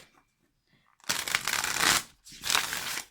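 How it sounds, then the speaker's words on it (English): A deck of tarot cards is shuffled in two bursts, a dense riffling rustle lasting about a second, a short pause, then a second shuffle, close and fairly loud. "I'm going to do one more shuffle. I'm still breaking in the deck."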